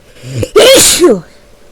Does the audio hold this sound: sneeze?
yes